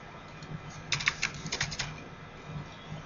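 Keys tapped on a computer keyboard while entering a short password, a quick burst of light clicks in a steady rhythm, close and moderately faint over a quiet room background.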